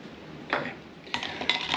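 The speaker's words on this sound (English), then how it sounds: "Give that a stir." A spoon stirs a Seville orange Bloody Mary with tomato juice in a glass, giving a few bright clinks and scrapes against the glass in short close bursts with quiet gaps between them.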